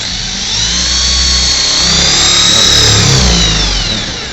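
A worn, dull spade drill bit bores a keyhole into a display cabinet, giving a steady, loud, continuous whine of the spinning drill throughout with no pauses.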